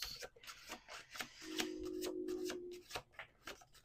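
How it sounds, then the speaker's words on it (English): A deck of tarot cards being shuffled by hand, soft rubbing and riffling strokes in an irregular rhythm, close and quiet, with a brief faint tone in the middle and no speech. "Okay, 2 more shuffles."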